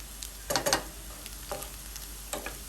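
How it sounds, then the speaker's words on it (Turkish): Small minced-meat meatballs are stir-fried with a spoonful of dried mint for a Turkish soup sauce. A steady close sizzle runs underneath, with a few scraping stirs from a spoon against the pan. "Kuru nane ile birlikte bir iki tur daha çevirdikten sonra"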